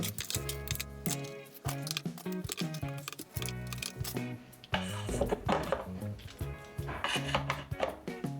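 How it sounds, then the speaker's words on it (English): Repeated clacks, clinks and metallic rattles as keys and tools are dropped and slotted into a HobbyZone tool rack, close and busy throughout with no talking. "let's start off by putting some of the larger keys and tools into this tool rack here."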